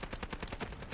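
Automatic gunfire in the video game Delta Force, a rapid loud burst of about a dozen evenly spaced shots filling the moment, with no talk.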